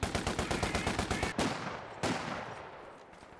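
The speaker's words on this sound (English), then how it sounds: "universal carrier peppering away" A universal carrier's machine gun fires in Company of Heroes 2: a rapid rhythmic burst of shots, then two sharp louder blasts that trail off into echoing decay, with no voices.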